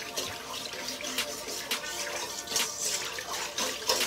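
Filtered water from the refrigerator poured into a garlic parmesan sauce for chicken wings, a steady broadband splashing stream that runs continuously throughout at moderate loudness with no talking.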